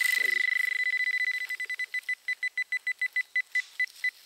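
A metal detector, used to search for World War I relics, beeps rapidly at first, then the beeps space out into a slower, steady series of sharp electronic tones; a brief voice at the start.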